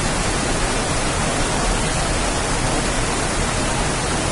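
Steady, loud rush of water from a small waterfall carrying a heavy flow after rain in a video game, a constant broadband roar without breaks or speech.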